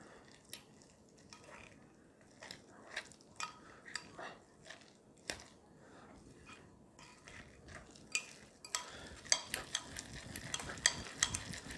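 Keto chaffle batter with baking powder is stirred with a utensil in a bowl, giving repeated light scraping and clinking taps at close range. The strokes come in an irregular rhythm and quicken and grow denser toward the end, with no voices.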